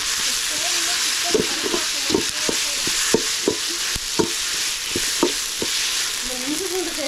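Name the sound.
ginger garlic paste being stir-fried in a pan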